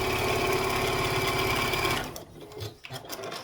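Quilt block seams are pieced on a sewing machine that hums in a fast, steady run for about two seconds and then stops, leaving soft handling noises.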